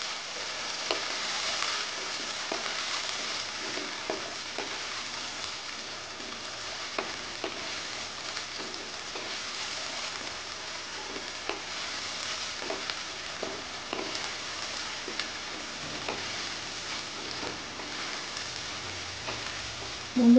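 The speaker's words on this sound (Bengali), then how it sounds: "এখন আলু আর পেঁয়াজ এই দুটো ভালো করে একটু ভেজে নেব" Potatoes and onions fry in a pan with a steady, dense sizzle, and a utensil scrapes and stirs through them at intervals. There is no talk, and a sharp clink lands at the very end.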